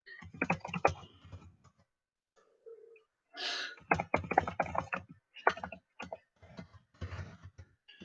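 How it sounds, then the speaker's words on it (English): Someone types on a computer keyboard in quick bursts of clicks, separated by short pauses, close and fairly quiet. "I'm just typing it."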